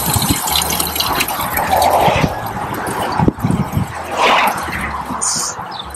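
Liquid pours and gushes from a campervan toilet cassette being emptied, a loud, close, continuous splashing flow with a sharp knock partway through.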